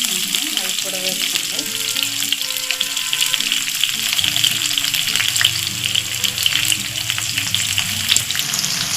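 Sliced onions hit hot oil with cinnamon and cloves for an egg curry, giving a loud, continuous close-up sizzle with stirring clatter and utensil knocks throughout.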